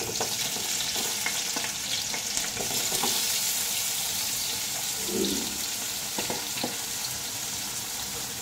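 Salted potato pieces frying in a pan, a dense continuous sizzle with light crackling and occasional faint knocks, close and steady throughout.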